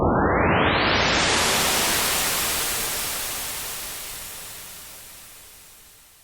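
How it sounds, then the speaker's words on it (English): A soloed shimmer reverb tail of a sweep effect: a broad hiss-like wash that starts full and bright, then slowly fades and darkens over several seconds, alone with no talk. "if we listen to this solo, this is the reverb information only without the actual"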